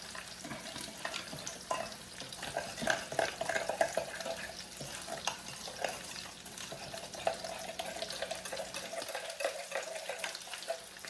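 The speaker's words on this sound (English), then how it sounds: "Let's stir that up" Broccoli salad with nuts is stirred in a bowl, giving a steady wet scraping and rustling that runs for about nine seconds before growing quieter, with no talking.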